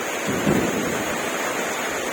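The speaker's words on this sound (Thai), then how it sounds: "ฝนตกแรงมากครับ พายุเข้าด้วยนะครับผม" Heavy afternoon rain pours down steadily during a thunderstorm with gusty wind, a dense continuous hiss of rainfall with a low rumble of thunder swelling briefly near the start.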